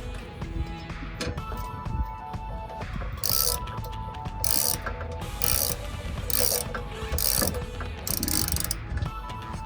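A hand ratchet tightens a bolt on a rock slider mounted to a 2020 Toyota 4Runner TRD Pro, giving several bursts of rapid clicking spread over the clip with metallic handling noise in between.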